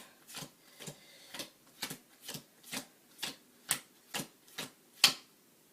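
Playing cards slapped down one at a time while being dealt into four equal piles for a card trick, about a dozen crisp, evenly spaced taps, close and fairly quiet, with no talking.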